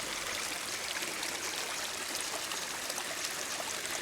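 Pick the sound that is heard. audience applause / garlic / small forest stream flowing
small forest stream flowing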